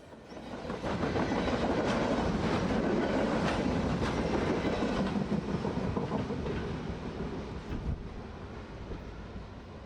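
A military train rolls past on a North Louisiana railroad, a loud sustained rumble with rhythmic clickety-clack of wheels over rail joints and some wind buffeting the microphone, easing slightly toward the end.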